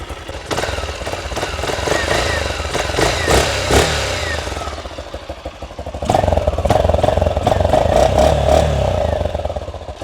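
Mustang GT250 motorcycle engine running steadily after an oil and oil-filter change, a loud continuous rumble with clattering mechanical tones and a firmer, louder stretch in the second half.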